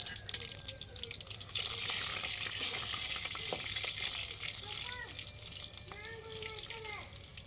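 Garlic is tipped into hot oil already seasoned with mustard seeds and cumin, giving a soft, steady sizzle with stirring scrapes, faint overall, and someone speaks over it now and then.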